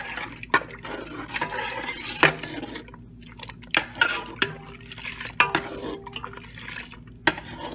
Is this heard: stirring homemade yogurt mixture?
yes